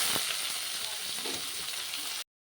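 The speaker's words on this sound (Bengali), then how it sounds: "আমি পেঁয়াজগুলো ভেজে নেব।" Chopped onions frying in hot oil in a wok with whole garam masala, cumin seeds, bay leaf and dried chilli, giving a steady close hissing sizzle that stops abruptly after about two seconds.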